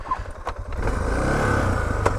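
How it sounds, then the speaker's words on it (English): An off-road vehicle's engine idles steadily after being left running on a rough trail, a low continuous rumble with a brief clatter at the start, close and fairly loud. "Well, I left my engine on, so it won't stall again."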